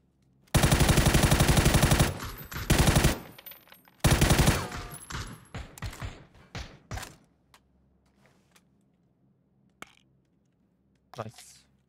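Automatic gunfire in PUBG: two long, loud bursts of rapid shots, then scattered single shots and clicks fading to quiet, with a few isolated pops near the end.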